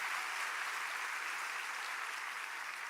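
A church congregation applauds together during a service, a steady, dense wash of clapping that stays fairly quiet and even throughout, with no voices standing out.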